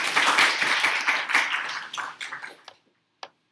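A small group at a PyData Manipal online session claps together for about two and a half seconds, a dense close burst that tapers off, followed by silence and one last lone clap.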